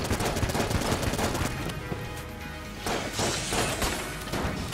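Dense gunfire from a strong gun in the game Enter the Gungeon: rapid overlapping shots and crashing impacts form a loud, nearly continuous barrage with brief uneven breaks and no speech.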